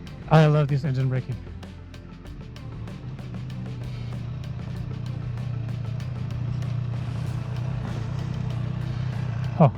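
Triumph Street Triple 765 R motorcycle, restricted to 35kW, engine braking on the road: a low steady engine drone beneath wind rush, with a brief rev at the start and someone talking over it.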